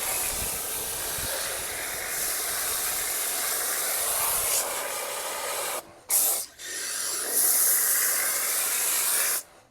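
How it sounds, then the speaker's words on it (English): A long, steady aerosol hiss of brake cleaner sprayed onto a wheel, loud and close, broken by a brief pause, then a short burst and another sustained blast. "I'm gonna spray a little bit more brake buster"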